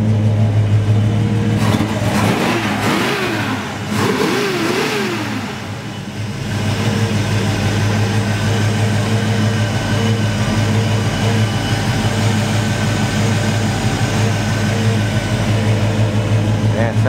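A 1971 Chevrolet Camaro Z28 with a 402 engine and 3-inch exhaust rumbles loud and close, its revs rising and falling in a few quick blips early on before settling into a steady, deep idle.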